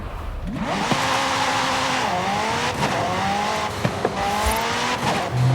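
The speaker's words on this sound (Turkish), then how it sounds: "McLaren marka aracımızla start noktasına geçiş yapıyoruz arkadaşlar." A McLaren sports car in Forza Horizon 5 drives toward the race start, its engine note steady with gliding pitch shifts as it revs and eases off, and a few sharp clicks or bumps along the way, with no talking.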